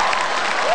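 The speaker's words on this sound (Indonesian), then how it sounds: "tepuk tangan dulu dong untuk Pak Ahok" Audience applause for Pak Ahok at a stand-up comedy show, a dense, steady burst of many hands clapping together, loud and close, with no speech over it.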